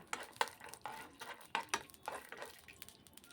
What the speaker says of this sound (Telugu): ఇప్పుడు ఎండుమిర్చి వేసేసుకున్నాం కలుపుకుంటూ దోరగా వేయించుకోవాలి